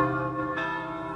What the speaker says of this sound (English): They're bonging the bells